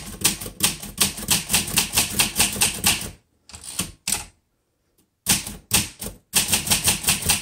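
Rapid, crisp keystrokes clatter from a 1963 Olympia SM7 manual typewriter in steady bursts, broken by a pause with a few isolated clicks and a brief silence before fast typing resumes, loud and close.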